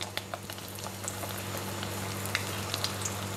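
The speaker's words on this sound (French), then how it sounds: "une fois que l'huile est bien chaude, l'huile de friture, on va venir immerger nos falafels" Green papaya falafels deep-frying in hot oil, giving a steady close sizzle with scattered sharp pops and crackles throughout, no talking.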